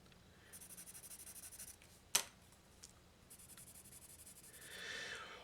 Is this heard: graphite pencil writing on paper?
yes